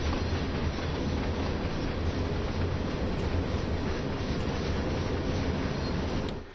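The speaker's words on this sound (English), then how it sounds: "This is a coal train, an empty coal train, which needed to be loaded in Werdohl." An empty coal train rolls past in Train Sim World 2 on the Ruhr-Sieg Nord line. It makes a loud, steady rumble with rhythmic wheel clatter that runs unbroken and dips at the end, with no talk.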